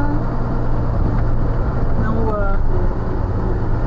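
Car cruising through busy night traffic, a constant low engine and road rumble heard from inside the cabin with faint passing vehicles, while people talk over it.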